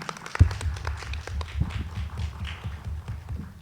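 Audience applause at an anniversary event for an international relations journal at a Mexican university, a steady patter of clapping from a crowd with a sharp thump near the start, moderately loud throughout.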